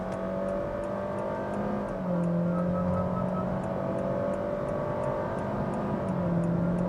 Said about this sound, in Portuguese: Vamos lá para o nosso teste de retomada de velocidade, ó, 60 a 120 pisando tudo.